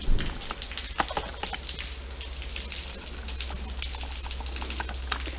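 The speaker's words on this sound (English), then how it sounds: "Sorry about the noise of the rain." Rain patters steadily outdoors during on-site maintenance of a Terratrencher machine, a dense, even hiss of drops with scattered sharper ticks on surfaces, continuous and moderately close with no talking.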